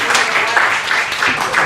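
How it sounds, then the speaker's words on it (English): Audience members at a comedy roast in a Richmond, Virginia club clap in a loud, dense burst, with voices mixed in among the applause. "that's right, we clap for Odyssey"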